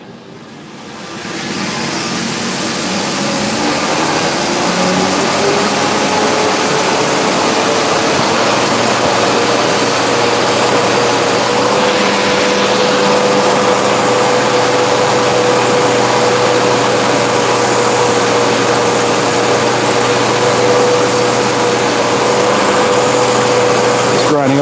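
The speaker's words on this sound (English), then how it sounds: "Just grinding off the welds." Grinder grinding off welds on a forged Viking cross pein hammer head, a loud, steady abrasive roar with a sustained whine that spins up in the first couple of seconds and holds constant throughout.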